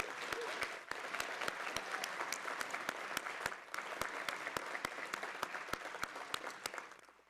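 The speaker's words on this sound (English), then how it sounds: "Please join me in one more round of applause for our outstanding seniors." Sustained applause from an audience at an outstanding seniors awards ceremony, dense clapping throughout with a few sharp louder claps standing out, fading slightly at the end.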